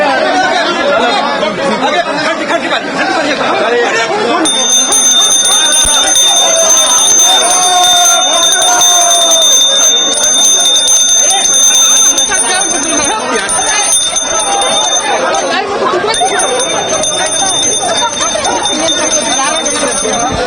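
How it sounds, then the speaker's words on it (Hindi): A minister rides a bicycle around a state legislative assembly complex, ringing its bell; bright metallic rings repeat through a loud, crowded scene with continuous chatter and reporter talk. "मंत्री इरफान अंसारी जो है घंटी बजाते हुए पूरे विधानसभा परिसर में साइकिल से घूमते हुए नजर आ रहे हैं"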